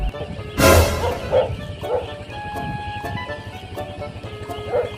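A dog barks a few times at irregular intervals, fairly close, on a road, over a steady background rumble with a loud burst near the start.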